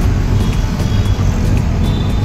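An auto-rickshaw engine drones loud and close during a ride, with a continuous low rumble and road noise throughout and no talking.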